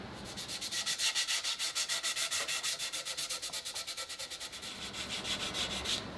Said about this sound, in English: Let's get this thing sanded. .220 grit, same thing,